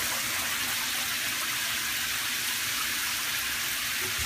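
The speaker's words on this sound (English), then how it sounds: "And it actually works, so the shower works as well." Shower running through newly installed PEX plumbing in a tiny house, a steady broadband hiss of spraying water that stays even and close throughout, with no voices.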